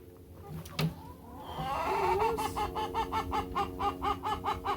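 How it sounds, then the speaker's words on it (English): A broody hen gives a rapid run of repeated low clucks, close by, after a quieter stretch with a brief knock. "This is our broody hen."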